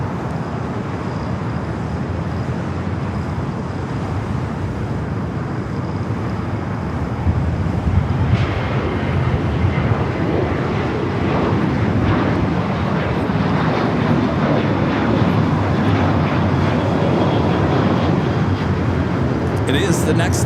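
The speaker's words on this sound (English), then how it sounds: "The flight coming in from Cabo, United Airlines Flight 547. It's a 737-800." A United Airlines Boeing 737-800 arriving at LAX on the south side produces a steady broadband jet roar that swells louder partway through, with wind buffeting the microphone.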